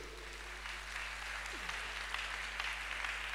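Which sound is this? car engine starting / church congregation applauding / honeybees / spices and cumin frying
church congregation applauding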